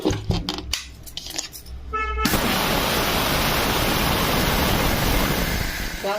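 A mixer grinder coarsely grinds mustard seeds for mango avakkaya pickle, starting after a brief clatter and settling into a loud, continuous whirring roar that runs to the end.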